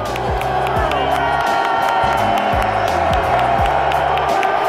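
A record crowd of over 68,000 at Heinz Field cheering and roaring continuously at a Steelers vs Patriots NFL game, loud and dense, with whoops and claps rising from the mass of voices.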